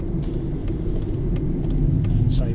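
Citroen C1 LPG hatchback pulling up and coming to a stop, a steady low engine and road rumble at close range with faint high clicks and jingles over it.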